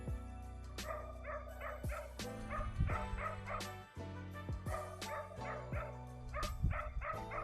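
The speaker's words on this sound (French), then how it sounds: "On voit en arrière-plan que des chiens aboient." Dogs barking in the background of a rural Moroccan night scene, repeated yips and barks coming in irregular bursts at moderate distance, with some whimpering between them.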